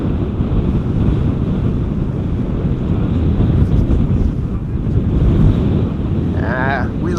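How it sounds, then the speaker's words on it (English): Strong crosswind at Schiphol airport buffeting the microphone, a loud continuous rumbling roar throughout, with a brief voice near the end. "Te veel crosswind."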